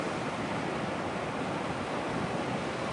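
Large sea waves break on a shore, heard as a continuous broad roaring wash of surf that stays loud and steady with no talk.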